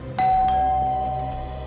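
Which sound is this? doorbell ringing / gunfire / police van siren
doorbell ringing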